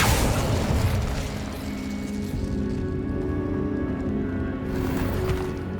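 Fire spell effects in the video game Hogwarts Legacy, a loud whooshing, roaring burst that fills the clip with a dense rumble, then continues as a steady sustained blaze with no talking.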